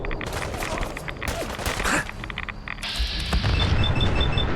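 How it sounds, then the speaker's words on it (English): An explosion in the Fallout 4 video game erupts as loud, rumbling blasts and crackling debris that roll on and build toward the end, with no talking over them. "That's an explosion."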